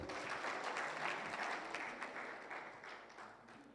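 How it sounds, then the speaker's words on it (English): Warm applause from an audience at a book launch panel discussion, a steady wash of many hands clapping at moderate distance that gradually softens toward the end. "let's clap for Faith"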